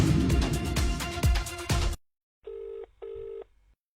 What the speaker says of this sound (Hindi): कम ऑन यार दिशा, please pick up the phone